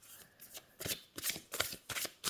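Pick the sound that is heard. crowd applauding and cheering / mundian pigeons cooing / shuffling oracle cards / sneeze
shuffling oracle cards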